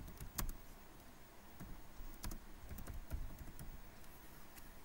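Typing on a computer keyboard while entering a store name, with uneven bursts of sharp key clicks over a faint steady background hiss and no speech.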